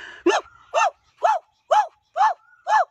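A man imitates a dog barking with six evenly spaced, loud, close woof-like calls in a steady rhythm, with silence between them.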